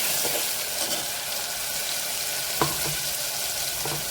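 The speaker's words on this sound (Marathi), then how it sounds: "कढीपत्ता पण छान परतून घ्यायचा आहे." Tomatoes, coriander and curry leaves sautéing in a pan, a steady close sizzle with a few brief spatula taps and scrapes against the metal.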